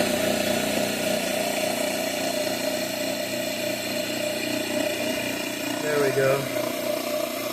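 Permanent magnet RotoVertor motor, driven by a pony motor, hums steadily on 120 volt 60 Hz AC with a constant tonal drone, and someone speaks briefly over it.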